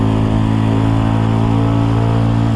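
Mutt Fat Sabbath motorcycle engine runs loud and close with a steady, deep throbbing rumble as the throttle is rolled on gently, held at an even pitch throughout.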